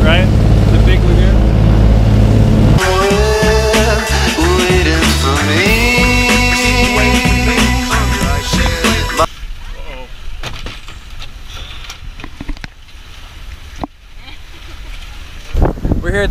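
Loud motorboat engines drone and shift pitch close by in the Big Lagoon in the Philippines, with wind buffeting the microphone and brief voices breaking in toward the end.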